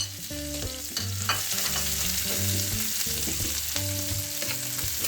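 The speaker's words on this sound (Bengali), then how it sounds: "এক পাশে মরিচ ভাজা হচ্ছে আর এক পাশে আমার পেঁয়াজ রসুন ভাজা হচ্ছে।" Onion, garlic and chili fry together in a pan for vegetable khichuri, a close, steady sizzle with stirring and no speech.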